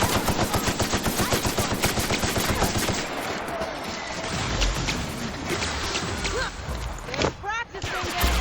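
Rapid gunshots in the game Peril on Gorgon, a fast, loud automatic burst of evenly spaced shots for about three seconds, followed by scattered impacts and clatter with game voices talking.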